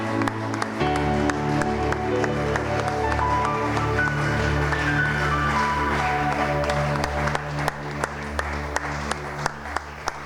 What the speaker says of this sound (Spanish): te damos una ofrenda de aplausos a ti